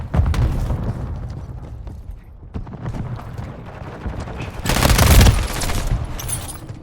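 Near-constant gunfire and booming explosions in Call of Duty Modern Warfare 3, a dense, rumbling battle din that swells into a louder blast burst partway through.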